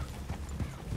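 Horse hooves clip-clopping in Red Dead Redemption 2, a muffled, low and fairly faint run of thuds with no voices over them.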